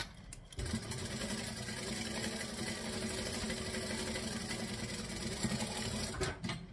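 Sewing machine stitching fabric for a saddle bag and then backstitching, a steady close mechanical whir running continuously for several seconds with a brief pause near the start and end.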